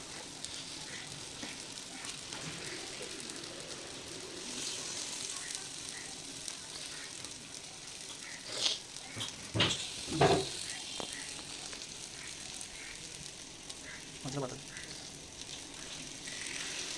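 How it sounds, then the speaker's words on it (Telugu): Marinated fish pieces fry in a pan over a medium flame, giving a steady close sizzle with a few louder crackling bursts and some handling noise. "హీట్ అయ్యాక మనం ముందుగా మ్యారినేట్ చేసి పెట్టుకున్న ఫిష్ పీసెస్ని ప్యాన్పై వేసి ఫ్రై చేసుకోవాలి"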